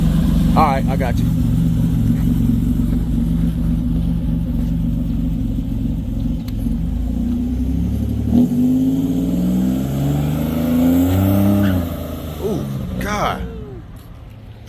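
A 700 hp, one-owner 1987 Buick Grand National accelerates hard. A deep, loud engine drone rises through several sweeping pitch climbs before easing off, with people speaking over it inside the car.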